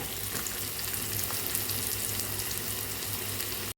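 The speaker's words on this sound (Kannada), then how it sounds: "ಈ ಟೈಮಲ್ಲಿ ಕಟ್ ಮಾಡಿರುವಂಥ ಈರುಳ್ಳಿನೆಲ್ಲ ಹಾಕ್ತಾಯಿದ್ದೀನಿ" Chopped onions and dry chillies frying in a pan, making a loud, dense, continuous sizzle close up that holds steady and then cuts off abruptly, with no voices.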